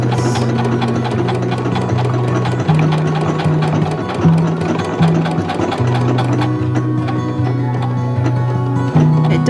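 A sewing machine stitches a tack while sewing a McCall's 8385 garment, with a close, loud, rapid needle rhythm that runs continuously and shifts pitch slightly as it works.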